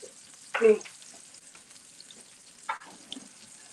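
Beef short ribs sizzle in a hot pan as braising begins, a steady fine crackle throughout with a couple of louder bursts of movement or stirring near the start and end.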